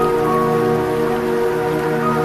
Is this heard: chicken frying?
no